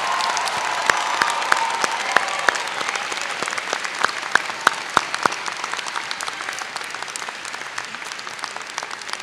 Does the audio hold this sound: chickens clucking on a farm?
no